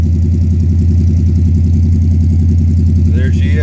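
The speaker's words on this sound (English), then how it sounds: "Now she's up to temperature, idling at about 700 or 800 RPM." An old muscle car engine idles steadily at about 700–800 RPM after a cold start on a car that had been sitting, a loud close rumble with a regular pulsing beat, joined near the end by a brief higher-pitched sound.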